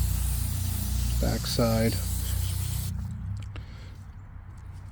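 Cleaner sprays onto the MAF sensor of a Chevrolet Silverado in a steady hiss lasting about three seconds, with a brief spoken voice over it before it stops.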